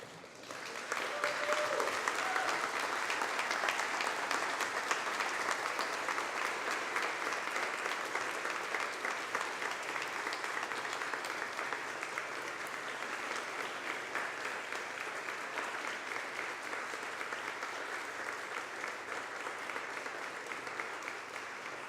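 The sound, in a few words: applause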